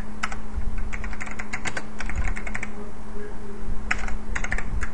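Rapid clattering keystrokes on a computer keyboard as a website link is typed, coming in close bursts with brief pauses over a steady low electrical hum.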